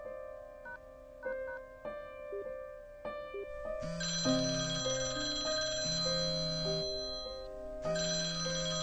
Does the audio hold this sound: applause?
no